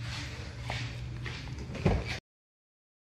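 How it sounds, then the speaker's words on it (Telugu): The driver side door of a Maruti Suzuki Invicto opens with a soft mechanical clunk near the end, close by, after a steady low background hum. "డ్రైవర్ సైడ్ డోర్స్ కూడా 80 డిగ్రీస్ ఓపెన్ అవుతాయి."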